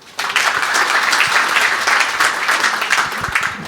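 A round of applause from a seminar audience at a property masterclass, sudden dense clapping that starts abruptly and holds steady and fairly close.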